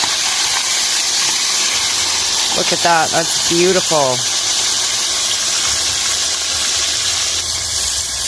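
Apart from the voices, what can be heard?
walleye cooking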